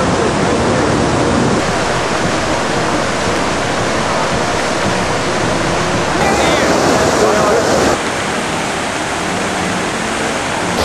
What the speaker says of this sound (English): I like the waterfalls.